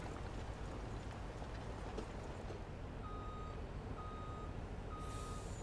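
Truck reversing alarm in Farming Simulator 19, a series of evenly spaced electronic beeps over a low engine rumble, moderately faint and without talk.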